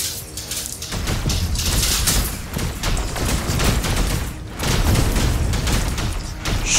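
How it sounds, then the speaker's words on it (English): Dense, sustained gunfire in the Meridian Squad 22 video game, rapid overlapping shots and bursts at steady loudness throughout, with no talking. "Why were there bullets flying this way?"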